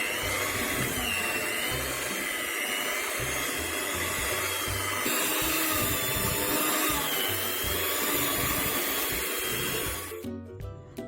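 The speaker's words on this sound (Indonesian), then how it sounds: "Nah ini akan saya mixer ya teman-teman. Di mixer sampai kalis elastis ya teman-teman." A hand mixer kneads bomboloni donut dough until smooth and elastic, giving a continuous close motor whine with a faint rhythmic churn. It cuts off abruptly near the end, and no one speaks.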